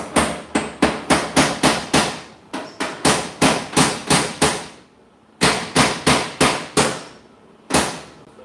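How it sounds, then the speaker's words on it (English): A hammer taps a bearing back into place in a garage, landing a long series of sharp, evenly spaced metallic blows in quick bursts with brief pauses between them, loud and close with no talking. "Now, we'll tap that bearing back"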